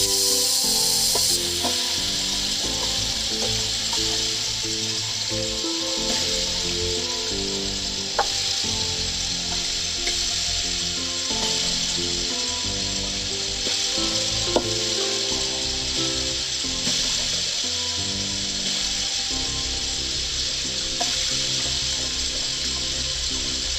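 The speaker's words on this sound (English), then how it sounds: "we're cleaning it with warm water" Warm water runs steadily while a service dog's sore foot is washed on a farm, a continuous hissing flow with occasional rubbing and small knocks, close and without talk.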